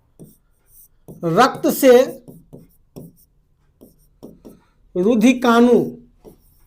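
Chalk or marker strokes on a classroom board during a Hindi biology lesson on the circulatory system, soft scratchy bursts in the pauses between a teacher's close, loud speech.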